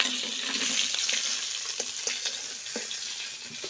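Freshly caught pond fish frying in a pan in a village kitchen, a dense close sizzle with occasional soft scrapes and stirring knocks, no voices.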